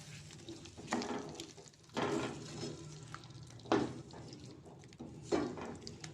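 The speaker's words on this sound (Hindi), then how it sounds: "थोड़ा सा मैं पानी ऐड करूँगी ताकि आलू जो है वो अच्छी तरह से मसाले के साथ फ्राई हो जाए" Potatoes fry with spices and a splash of water in a pan, a faint steady sizzle broken by several soft stirring scrapes. No one speaks.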